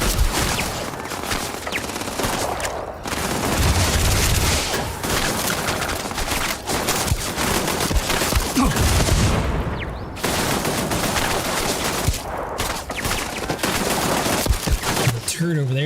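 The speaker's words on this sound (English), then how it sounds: "Turret over there shooting us, that's not good." Turret gunfire in Starfield: loud, rapid automatic shooting in long sustained bursts, broken by a couple of brief pauses, with booming impacts mixed in.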